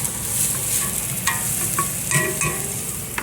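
Vegetables for carrot ginger soup sautéing in a pan, a continuous close sizzle broken by scattered clicks and scrapes as they are stirred.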